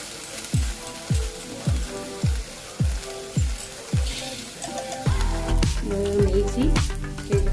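Soya chunks frying over a high flame, a continuous sizzle broken by repeated rhythmic stirring or scraping knocks, denser clattering toward the end, with no voices.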